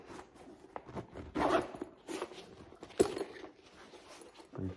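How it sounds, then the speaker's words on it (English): A tight zipper on a door storage bag for a 2023 Can-Am Maverick Sport Max is pulled in a couple of short, close rasping bursts between quiet handling noises. "Tight zipper, nice cover over the zipper"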